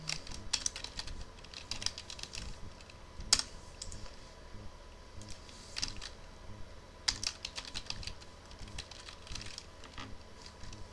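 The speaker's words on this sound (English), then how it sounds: "Type in products again." Fingers type on a computer keyboard while building an invoice spreadsheet, with bursts of quick key clicks, some firmer taps and short pauses, close and steady throughout.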